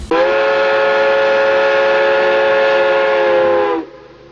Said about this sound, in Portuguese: Lá vai o trem